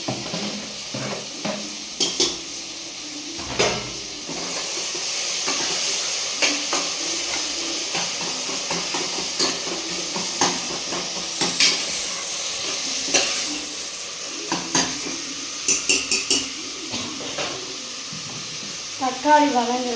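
Two tomatoes frying in a pan with spices for egg biryani give a steady close sizzle, with repeated scraping and clattering stirs of a metal spoon against the pan and a voice talking over it at times.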